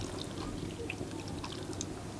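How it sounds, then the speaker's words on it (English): Water poured over chopped potatoes in a karahi set on a fire, a steady splashing pour with light drips running the whole time. "We'll add these in to my karahi, and I'll put these up onto the fire with some water"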